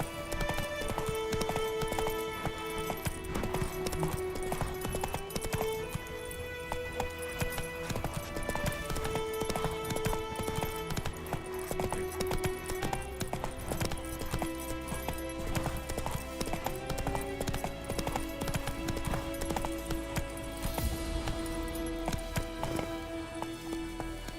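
The horse Roach gallops in The Witcher 3, a fast, even clip-clop of hooves repeating throughout at close range over a backdrop of game music.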